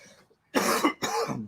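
A man coughs outdoors with pollen in the air, two harsh, loud, close bursts in quick succession after a soft breathy lead-in, with no talking.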